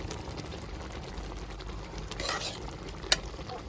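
A spoon stirs lemon pickle in hot oil with heated chili powder in a large batch, making a soft bubbling sizzle, a brief louder swirl, then a single sharp clink of metal near the end.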